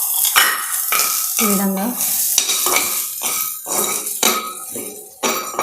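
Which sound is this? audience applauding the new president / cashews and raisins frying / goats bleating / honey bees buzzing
cashews and raisins frying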